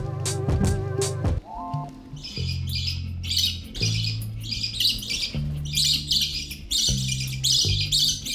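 A hand-fed baby budgie, about five weeks old and just learning to fly, squawks and chirps in loud, rapid bursts of bright high calls, close by, with no talking.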